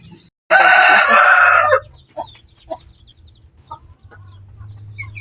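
A loud, close squawking call from a mother hen with chicks lasts over a second, followed by a few softer clucks against a low background hum.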